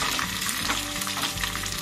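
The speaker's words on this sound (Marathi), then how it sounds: "ही फोडणी छान चरचरीत अशी फोडणी द्यायची आहे" A tempering of curry leaves, deseeded red chillies and green chillies sizzles hard in hot oil, a dense, loud crackle with stirring throughout and no voices.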